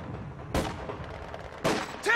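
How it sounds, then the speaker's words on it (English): Small arms gunfire in the World War II strategy game Company of Heroes 2, heard as two or three sharp broadband bursts standing out of a steady battle din, with faint game voice callouts between. "Taking small arms fire!"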